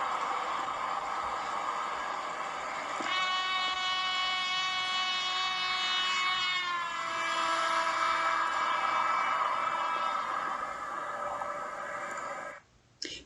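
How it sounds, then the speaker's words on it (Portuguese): A passing vehicle's horn sounds one steady, loud, sustained blast that drops sharply in pitch partway through as it goes by, over a constant rumble, with no speech. "você tem um carro buzinando, passando por você"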